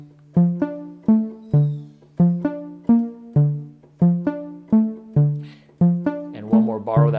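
Piano plays the repeating pattern from a song, about a dozen evenly spaced struck chords that each ring and decay, close and clean, with a short murmur of voice near the end.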